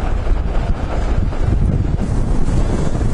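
Strong wind buffets the microphone on the Atlantic Ocean coast, a loud continuous roar with surf and waves blended underneath, no voices.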